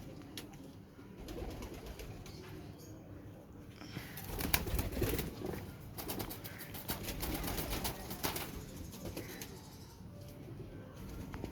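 Rampuri pigeons coo in a crowded pigeon market in Lahore, a low rolling murmur with occasional wing flaps and clatter close by.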